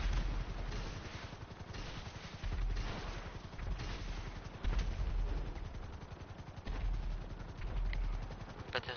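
Rapid bursts of gunfire in the video game GTA 5 Online, dense repeated shots and automatic fire layered over a continuous loud low rumble, close and sustained throughout.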